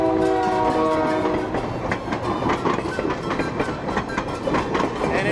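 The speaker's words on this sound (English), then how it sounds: "The train is coming to pick us up." A train arriving at a stop near Lake Superior Provincial Park, its horn sounding loudly at first, then wheels clattering rhythmically over the rails as it rolls in close, with no voices.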